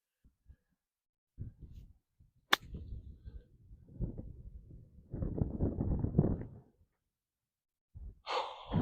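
A golf club strikes the ball on a downhill shot during a round, one sharp crack standing out amid low rustling and breathing, with a brief exclamation after the ball flies.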